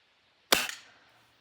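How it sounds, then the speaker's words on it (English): A single sharp crack from a Beeman 1022 dual-calibre .177/.22 air rifle fired downrange, a close, brief snap with a short tail, alone in quiet surroundings. "That didn't sound like a healthy shot."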